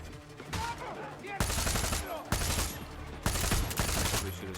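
Loud automatic gunfire from a weapon loaded with soft target rounds in Far Cry 6, fired in several rapid bursts separated by short pauses, close and dominant.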